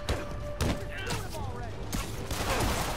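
Guns fire at close range in a Spider-Man video game, with a few sharp reports and thumps over constant game background noise and music while someone talks over the action.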